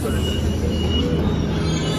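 A metro train runs into Stadium station with a steady, loud rumble and faint high wheel squeal that continues for about two seconds, with no talking.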